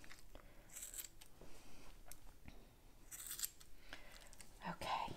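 Scissors snip in soft, quick bursts while trimming a white dog's fur, quiet and close, with faint rustling and occasional murmured talk in between.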